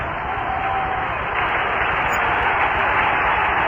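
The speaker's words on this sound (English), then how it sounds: "The applause and recognition starting to die down just a bit" Stadium crowd at a 1978 Reds versus Expos baseball game applauds Pete Rose's 3,000th career hit, a dense, steady roar of cheering and clapping heard through an old radio broadcast, sustained and loud throughout.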